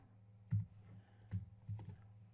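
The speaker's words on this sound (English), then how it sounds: "I won't be typing much because I'm pecking right now." A computer keyboard being typed on slowly with hunt-and-peck strokes, a few separate soft clicks over a low steady hum in a quiet room.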